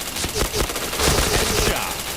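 Rapid automatic gunfire in a shooter video game, a dense run of sharp close shots across the whole stretch with a brief voice over it.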